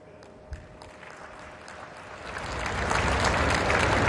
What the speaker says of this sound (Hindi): इधर ताली बजाने में देर हो गई।